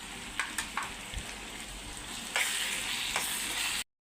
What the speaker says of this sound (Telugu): మసాలా అంతా బాగా వేగిందండి.